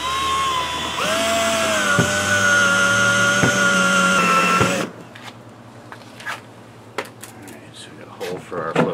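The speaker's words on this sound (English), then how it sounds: "we'll drill a hole for our float switch" A power drill with a step bit whines steadily for several seconds while boring a hole, then stops, leaving quiet handling clicks and faint rustling.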